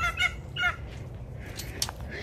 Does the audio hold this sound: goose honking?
yes